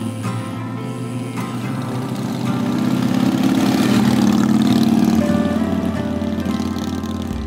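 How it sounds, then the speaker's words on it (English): Motorcycle engine running nearby, a steady mid-low droning hum that swells louder partway through and holds, with no talking over it. "it makes me want to go ride a motorcycle"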